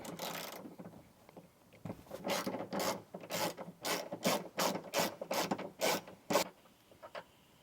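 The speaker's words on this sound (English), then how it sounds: "So we're going to take our 13 mil socket" Ratchet wrench with a 13 mm socket loosening a nut during a Tesla Model 3 subwoofer install: a short opening burst, a pause, then a steady run of about a dozen close, crisp clicking pulls, with no talking.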